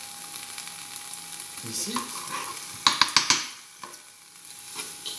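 Chopped shallots sizzle and crackle in a dry pan with lardons, stirred with a few sharp utensil scrapes and clacks against the pan, the frying close and steady.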